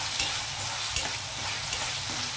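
Tomato and ginger-garlic paste fry in a pan for a prawn dish, giving a dense, continuous sizzle up close with soft stirring scrapes mixed in.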